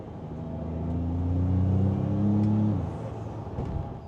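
A small 4-cylinder pickup truck engine revs up, holds a droning pitch for a couple of seconds, then drops off as the revs fall, heard from inside the cab.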